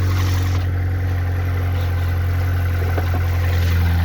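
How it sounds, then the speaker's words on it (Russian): 2004 Mazda Tribute (Ford Maverick) with a 2.3 L engine idling cold, a loud, steady mechanical hum with a strong low drone and faint ticking, alone without talk. "Вот движок на холодную работает."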